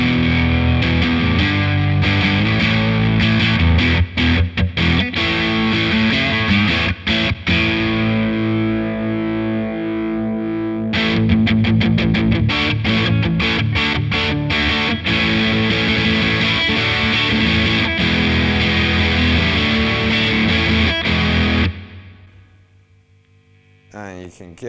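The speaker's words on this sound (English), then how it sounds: "this is where this pedal becomes a really good distortion pedal, not just an overdrive pedal" An electric guitar plays through a Wampler Sovereign distortion pedal in boosted mode, giving loud, thick, sustained distorted chords with choppy strummed passages. It runs for about twenty seconds, then cuts to a faint hum.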